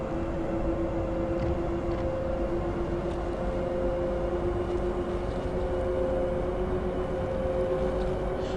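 An OBB 1044 electric locomotive running through the Semmering Tunnel on the Semmeringbahn in Train Simulator 2016, a steady enclosed rumble with a sustained tonal motor hum, constant and without talk.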